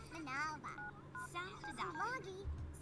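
Phone dialing tones beep in quick clusters in The Sims 3 while a Sim's chattery gibberish voice talks over them, close and fairly loud.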